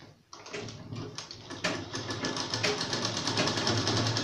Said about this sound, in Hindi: फोल्ड करके यहाँ पर हम सिलाई लगा देंगे